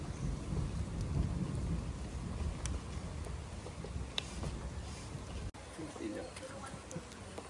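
Low rumbling thunder rolls on through a stormy outdoor scene on a river-crossing trip, with steady rain noise underneath and a sudden sharp crack partway through; people talk over it.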